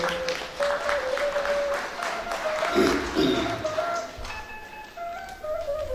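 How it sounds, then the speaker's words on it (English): Applause from the crowd at a celebration-of-life memorial gathering, steady dense clapping throughout with a few tones and voices mixed in. "Give them a big round of applause."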